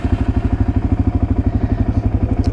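Quad bike engine chugging at a steady idle after starting, with a loud, close, evenly pulsing thump throughout and no talk.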